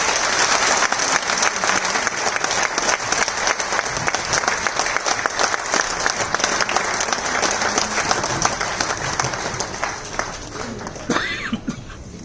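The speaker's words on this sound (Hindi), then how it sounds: "तो आइए मां महिम भारत के उपराष्ट्रपति श्री जगदीप जी धनखड़ को जोरदार तालियों से उद्बोधन के लिए आमंत्रित करते हैं।" Audience at a golden jubilee celebration applauding as the Vice President of India is invited to speak: loud, sustained clapping that fades near the end.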